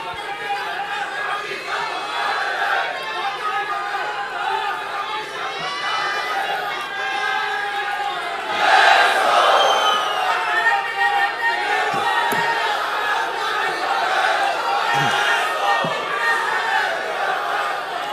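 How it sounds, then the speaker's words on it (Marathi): Large crowd at a Shiv Sena (Uddhav Thackeray) political rally, a dense continuous roar of voices and cheering that swells sharply near the middle, with scattered shouts throughout. "तेच चैतन्य तोच उत्साह तोच जोश आणि तीच गर्दी"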